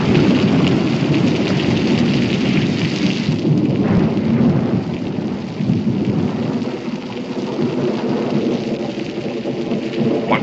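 Heavy rain pours steadily outside a frontier stable while thunder rumbles and rolls through the downpour, a loud, dense storm with no voices.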